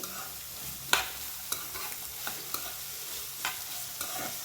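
Carrots and beans are stir-fried in oil, a faint steady sizzle with occasional sharp scrapes and taps from a stirring spoon, quiet and close with no talk.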